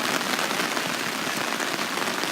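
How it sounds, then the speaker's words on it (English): Heavy rain pours down and drums on surfaces, a loud, dense, unbroken hiss of close raindrops without pause or voices. "It's raining a lot. It's raining a heck ton."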